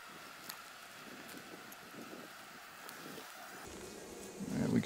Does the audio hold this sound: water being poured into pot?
no